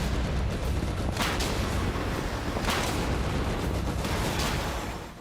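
Chinese artillery fire in a military propaganda video: a dense, continuous roar of blasts with several sharper booms standing out, loud throughout and fading slightly at the end.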